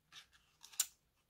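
A paper trimmer slicing paper cut to size for a chocolate gift pouch, making a few short dry scraping strokes up close, with one sharper crisp cut near the end, faint and alone.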